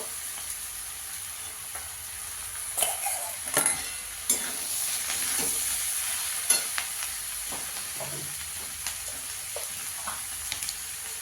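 Flat beans being stirred and fried in a pan of oil with chili powder, a steady soft sizzle broken by several sharper scraping stirs, close and alone with no talk.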